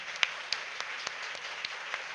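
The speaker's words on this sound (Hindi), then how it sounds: "तो बच्चों के लिए जोरदार तालियां" Audience applause for a children's performance at a school Dussehra and Gandhi Jayanti celebration, a steady hiss of many hands with scattered louder claps standing out, continuous throughout.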